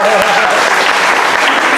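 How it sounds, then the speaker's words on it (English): Church congregation applauding, a dense, loud wash of clapping close by, with a voice briefly audible over it in this short burst. "So give Rob a round of applause."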